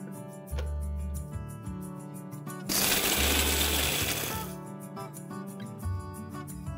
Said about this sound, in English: I'm going to quickly grind this makhanas as well.